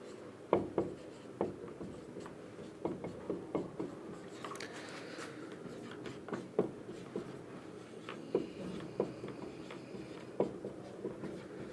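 Chalk or marker strokes on a board during a lesson on capacitors make quiet, irregular tapping and scratching, with short bursts of writing spread across the stretch and no voices.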